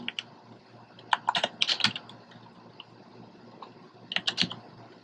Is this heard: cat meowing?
no